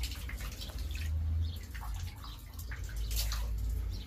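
Water drawn from an ancient well at Harran, linked to the Prophet Yaqub, is poured into cupped hands, giving a steady close splashing and trickling with small drips and no talk.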